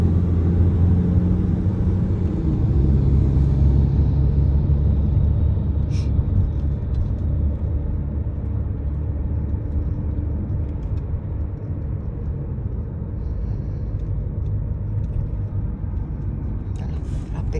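Road traffic of passing cars in Texas, a continuous low rumble of engines and tyres heard from inside a moving vehicle, steady for the whole stretch.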